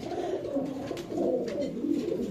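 A fancy pigeon coos in soft, repeated low rolling calls, heard close and clear with no talking.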